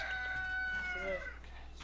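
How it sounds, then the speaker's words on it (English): Chickens on a porch give a rooster-like crowing call with warbling, tonal clucks, fairly close and clear, with no talk over it. "I just love the chickens going in and out on the porch"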